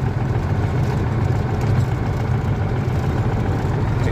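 Car engine running steadily while driving on a long highway trip, a low continuous rumble with gentle, slow acceleration and constant road noise throughout, no talking.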